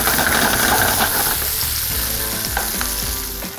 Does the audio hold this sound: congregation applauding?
no